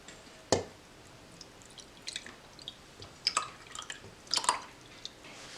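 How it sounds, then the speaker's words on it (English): Buttermilk being poured off fresh homemade butter drips and splashes down in irregular spatters, with a sharp first plop and scattered wet drops after, close by and fairly quiet. "so I can pour that buttermilk off"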